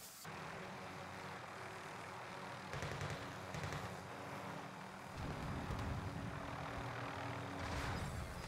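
Helicopter in Warzone passing overhead, a continuous throbbing engine and rotor roar that swells and shifts in intensity across the clip, with no talking.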